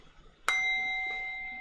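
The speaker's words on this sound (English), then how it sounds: "let me bring out my bell" A hand bell is struck once, giving a sharp clear strike followed by a long ringing tone that slowly fades in a quiet room.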